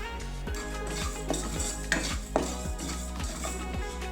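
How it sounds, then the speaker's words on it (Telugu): Mustard seeds roast in a pan with cumin and fenugreek, a soft background crackle under a steady hum, punctuated by a few light metallic scrapes and taps of a spoon stirring. "4 టీ స్పూన్స్ ఆవాలు వేసుకొని వేపుకోవాలి"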